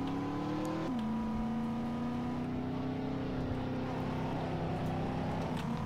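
Sustained car engine at full throttle in the racing game mod Need For Speed San Andreas on GTA San Andreas MTA, a steady droning hum with harmonics that dip briefly near the start then hold, loud and close throughout with no talk.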